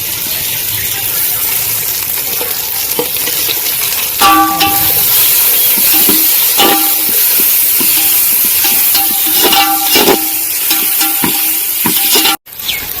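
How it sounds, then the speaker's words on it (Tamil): Onion, coriander, mint and green chilli sauté in a pan for chicken dum biryani, giving a steady, close sizzle broken by repeated spatula scrapes and clinks against the pan. "நம்ம போட்ட வெங்காயம், கொத்தமல்லி, புதினா, இந்த பச்சை மிளகாய் இதெல்லாம் சேர்த்து ஒரு 2 மினிட்ஸ் நல்லா வதங்கட்டும்."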